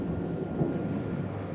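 The Spirit of Queensland electric tilt train runs with a steady rumbling roar of wheels and carriage noise heard from inside, and a brief faint squeal rises partway through.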